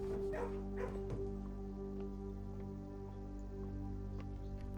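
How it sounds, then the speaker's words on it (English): Dog barking in the Blue Prince video game, a few short barks and whimpers in the first second or so over a steady droning game music bed, no talk. "Pet doggy for good luck."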